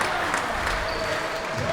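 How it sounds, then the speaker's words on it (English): A crowd applauds continuously at a real tennis world championship match, a dense steady clatter of clapping filling the whole moment at close range. "crowd's going wild"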